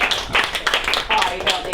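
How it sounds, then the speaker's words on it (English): A short burst of light clapping from a few people, uneven and close, mixed with talking. "Oh, thank you very much, little clap there."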